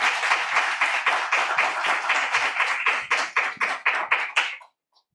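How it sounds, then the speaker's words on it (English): An audience applauds panelists at an arts and activism event. The clapping is close and lively, with distinct individual claps, and it stops abruptly at the end. "Please, a round of applause for our panelists, and let them take it away."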